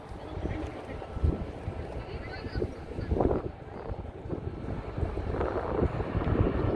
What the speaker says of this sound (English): We've got a Canadair regional jet coming in